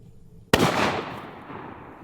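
A Savage Axis .223 rifle fired out of battery gives a single sharp, loud blast after a quiet moment, followed by a long decaying echo.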